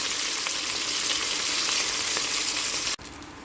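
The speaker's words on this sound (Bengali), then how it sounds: "আমি অল্প পিসটা ভালো করে ভেজে নেব।" Pieces of silver fish sizzle steadily in hot oil, a dense close frying hiss that holds level before cutting off abruptly near the end, followed by a quieter sizzle.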